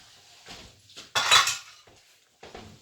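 Cookie-baking mixing utensils, bowls and spoons are cleared off a kitchen counter in a series of clattering clinks and knocks, with one loud jumbled burst in the middle and softer clanks before and after.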